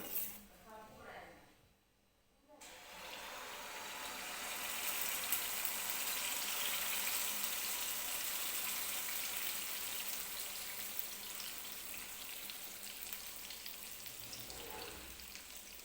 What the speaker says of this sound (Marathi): तर तेल गरम झालेलं आहे हे मिश्रण आपण या कढईमध्ये ट्रान्सफर करून घेऊया सगळं